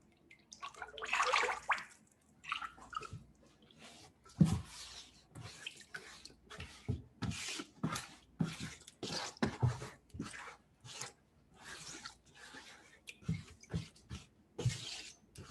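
Fresh water drains from processed clay through a bed sheet stretched over a container, giving soft intermittent trickles and drips at close range, alone with no talk.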